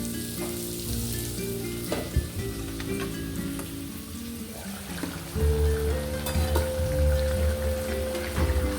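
Chicken pieces fry in a pan of hot oil, giving a steady, close sizzle and crackle that swells louder partway through, with no voices over it.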